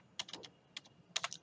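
A computer keyboard is tapped out in small clusters of quick keystrokes while a command is entered, faint and close with short pauses between clusters and nobody speaking.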